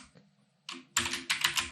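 Code being typed on a computer keyboard while programming in Dart, a few isolated clicks followed by quick bursts of close, crisp keystrokes.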